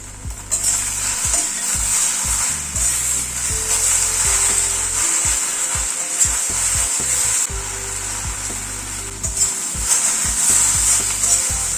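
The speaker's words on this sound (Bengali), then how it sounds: "আর 2 মিনিট ভেন্ডিটাকে ভেজে নিলাম।" Okra fries in a pan with a pinch of salt and turmeric, giving a steady, close sizzle with a low hum beneath and occasional soft knocks of stirring throughout.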